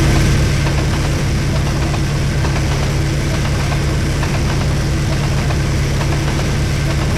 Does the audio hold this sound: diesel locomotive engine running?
yes